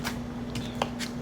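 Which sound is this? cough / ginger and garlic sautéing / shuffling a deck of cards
shuffling a deck of cards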